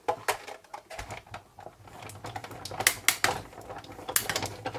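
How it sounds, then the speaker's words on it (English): A Sizzix Big Shot die-cutting machine is cranked with a thin die adapter, cutting mat and silver foil, giving a series of sharp cracks and creaking pops in uneven bursts, close and moderately loud. "That cracking is normal."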